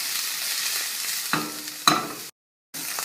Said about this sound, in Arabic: حطينا الفلفل، الجزر، البصل، بس بنقلبهم.